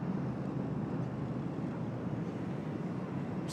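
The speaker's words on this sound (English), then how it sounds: "We've got Air New Zealand taxiing out as well." An Air New Zealand airliner taxis at Sydney Airport as a steady, low engine rumble and roar, fairly close and even throughout, with no voices.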